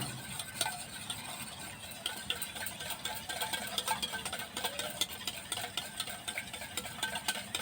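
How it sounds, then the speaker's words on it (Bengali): Cake ingredients being stirred and mixed in a bowl, a steady scraping, clattering churn that runs continuously without pause, close and moderately loud with no talk. "দেখুন, এইটার সাহায্যে আমি এই দুটো ভালো করে মিশিয়ে নেব।"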